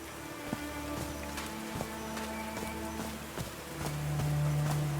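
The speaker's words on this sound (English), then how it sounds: "These drops of rain are so refreshing." Rain patters steadily in the video game Call of the Sea, a soft continuous wash beneath a droning musical score with scattered light taps.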